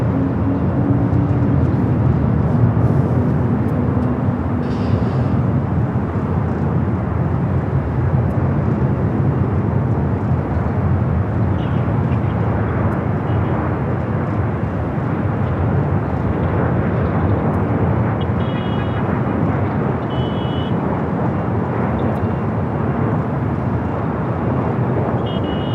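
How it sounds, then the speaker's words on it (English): A Delta Boeing 757-200, a former Northwest Airlines jet on flight 395 to Atlanta, roars steadily through its takeoff at Los Angeles airport, a loud, continuous broadband jet rumble lasting throughout without talk. "Another Delta 757 at number 1 for takeoff. Heading to Atlanta, flight 395."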